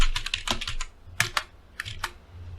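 Close, crisp computer keyboard typing while writing code, clusters of sharp keystrokes with short pauses between bursts.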